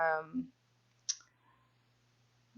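A single sharp computer mouse click stands alone against quiet room tone while someone works in Cricut Design Space for a Cricut Joy card.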